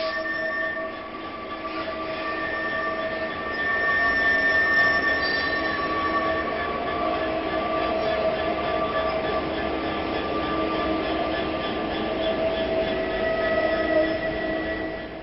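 A Class 66 diesel locomotive hauls a train of china clay wagons, producing a steady rumbling drone with sustained metallic wheel squeal and ringing tones throughout, heard at moderate distance without talk.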